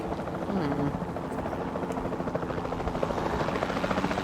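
A capture team helicopter in a dinosaur park management game, its rotor thumping in a fast, steady pulse under a broad mechanical roar, loud and continuous, with a voice talking over it.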